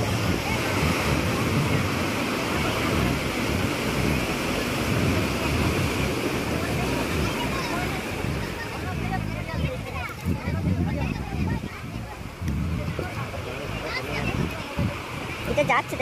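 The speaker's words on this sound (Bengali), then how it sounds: "ডবল ঢেউ আসছে, এখন ঢেউ আসছে, সেটা না যেতে যেতে ফের ঢেউ চলে আসছে।" River waves surge and crash one after another, a loud continuous roar of rushing water with wind buffeting the microphone and someone talking over it.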